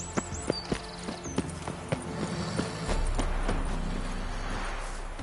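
Hoofbeats of Roach, the horse in The Witcher 3, a steady clip-clop of hooves close by, quickening into a run as a low rumble of movement builds underneath.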